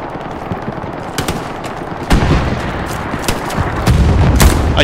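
Friendly machine guns rattle in Hell Let Loose, loud and sustained with sharp individual shots cutting through a dense wash of battlefield fire and distant booms.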